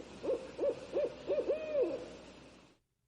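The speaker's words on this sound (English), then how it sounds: "Pete hears a strange hooting sound." An owl hoots near a camping spot at night, four quick evenly spaced hoots followed by a longer drawn-out call, clear and fairly close before fading to silence.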